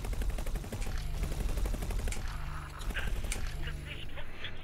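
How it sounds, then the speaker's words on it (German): Rapid bursts of laser gunfire from a ship in the space game X4 Foundations, firing repeatedly in quick pulses over a busy background of game sound and music. "Ich muss den jetzt abknallen, sonst knallt er die Schiffe ab."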